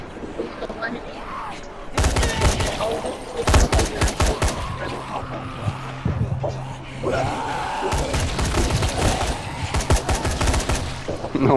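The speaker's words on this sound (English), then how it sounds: "And a shotgun really draws them in." Shotgun and gunfire in the zombie video game Dying Light crack out in loud, close bursts and rapid volleys, mixed with heavy impacts and slams, while a voice talks intermittently over the action.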